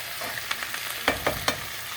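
Marinated beef steak frying in a pan with onion, a steady sizzle with several sharp crackling pops and spatula clicks, close and fairly loud, no voices.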